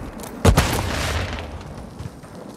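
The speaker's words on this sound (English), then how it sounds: "Throwing grenade!" Grenade explosion in the video game Call of Duty Warzone: a single sharp, heavy boom followed by a rumbling decay lasting about a second, loud and close.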